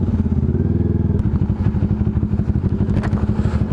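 Motorcycle engine thrumming steadily with a rhythmic pulsing beat, heard close from a rider with a Kawasaki Z400 motorcycle riding alongside, loud and continuous with no talk.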